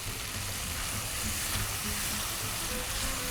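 Masala sizzles and fries steadily in a pan for aloo anda curry, a continuous dense crackle that stays close and even throughout, with no talking.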